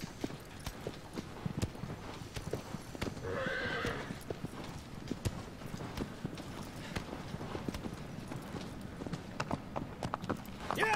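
Horse hooves clip-clopping in a steady trot with a brief neigh partway through, from the video game Shadow of the Colossus, heard close and clear over faint game ambience.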